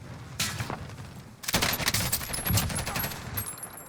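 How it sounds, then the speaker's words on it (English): Bursts of automatic gunfire crackle in a shooter video game, a rapid fusillade that stops, then resumes more loudly and densely, with no talking over it. "I can hear someone shooting at him"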